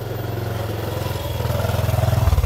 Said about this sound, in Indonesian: ada motor dulu